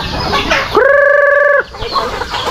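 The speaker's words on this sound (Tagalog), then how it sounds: "Ayan mga manok. Oh. Ito na mga manok." A farm rooster lets out one loud, sustained crow near at hand, surrounded by busy clucking from a flock of laying hens before and after.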